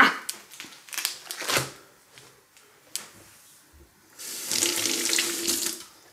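A kitchen tap runs water onto baking paper stuck to a freshly baked sponge cake, a steady rushing stream lasting about two seconds after scattered clinks and knocks of handling.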